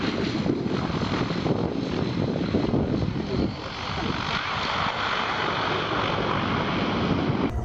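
A plane bounces off a nearby road and slams onto a runway in an awkward landing. Its engine roar is loud and continuous, with a broad rushing noise that dips briefly before swelling again.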